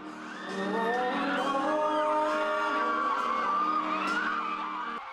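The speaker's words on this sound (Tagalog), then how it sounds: "Sa opening performance pa lang, hiyawan na ang fans." Fans scream and cheer at the opening performance of Lee Jae-wook's first fan meeting in Manila. A loud, sustained crowd roar rises after a quiet half-second and holds, full of high whoops and shrieks over music.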